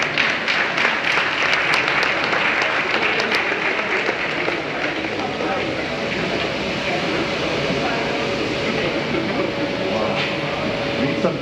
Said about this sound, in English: Round of applause, if you feel like round of applause.